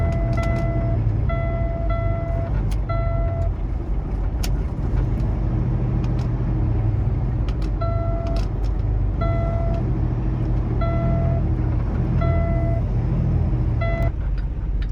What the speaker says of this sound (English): Truck accelerates itself. I don't accelerate anything. The truck is doing it.